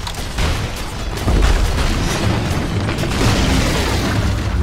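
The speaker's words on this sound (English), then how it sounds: "Radiant's middle tower has fallen." Tower crumbling in Dota 2 with a loud, booming rumble of collapse mixed with bursts and explosive battle effects, dense and continuous.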